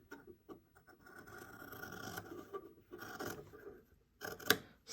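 Scissors snip through fabric while cutting a cathedral placket at the sewing table, giving several quiet, close crunchy cuts with short pauses between them.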